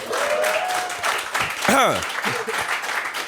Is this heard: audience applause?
yes